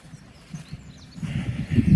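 Horses move close by over soaked, muddy ground. Soft, faint hoof thuds and shuffling grow louder toward the end.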